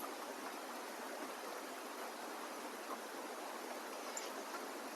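Mango pitha cakes frying in oil: a quiet, even, continuous sizzle with no pauses or voices.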